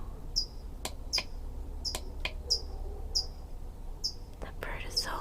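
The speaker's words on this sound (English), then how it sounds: "That bird is so loud." A loud bird sings outdoors by a porch, repeating sharp, high chirps at a steady pace of about one every half second, with soft whispering and faint rustling underneath.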